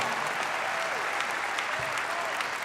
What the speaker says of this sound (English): I like that applause for the Thunderbirds.